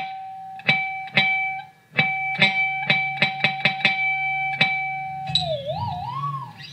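Clean electric guitar playing a series of plucked notes, then a wavering dive-bomb bend with vibrato near the end, played alone.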